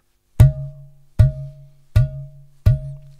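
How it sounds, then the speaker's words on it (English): Four open strokes on a ghatam clay pot drum, each a resonant booming thud with a ringing tone, evenly spaced and played alone. "an open sound"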